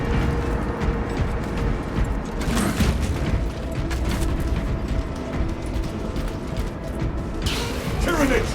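Crane machinery clanking and grinding as it delivers a payload in the Warhammer 40k video game Space Marine 2, a loud continuous mechanical rumble with creaks and heavier knocks near the middle and end.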